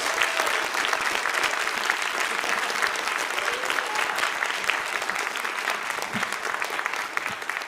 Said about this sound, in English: I'll get my friends to start the applause again